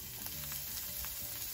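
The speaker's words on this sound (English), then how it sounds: "fat here so we can cook the shallots first" Shallots fry in fat for a dumpling filling, giving a steady, close crackling sizzle with small pops and no voices.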